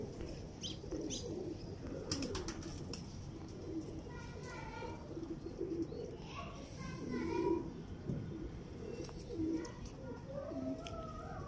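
Teddy pigeons coo in low, soft repeated bursts close by, with scattered bird chirps and background murmur of voices throughout.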